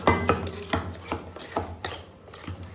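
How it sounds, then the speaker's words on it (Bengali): Semolina and yogurt batter mixed with about half a cup of water, stirred in a bowl with repeated clacking scrapes at an uneven rhythm, close and fairly loud, with no talk. "এটাকে দিয়ে আর হাফ কাপ মতো জল দিয়ে মিশ্রণটাকে ভালো করে মিশিয়ে নেব"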